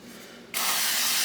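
A short burst of cooking oil spray starts about halfway through, a loud, steady hiss over a quiet kitchen background, used to coat dough just kneaded in a stand mixer.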